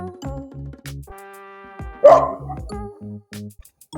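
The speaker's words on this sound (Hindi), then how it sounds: "यहाँ तो कुत्ते भी भौंक रहे हैं।" A dog barks once over a musical background with sustained tones and rhythmic beats.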